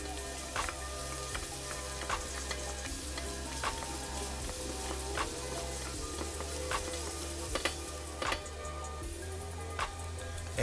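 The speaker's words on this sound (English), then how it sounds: "Get a good saute going." Vegetables sautéing in a pan with celery seed, a steady close sizzle and fry with repeated light ticks and taps of a utensil stirring, no voices.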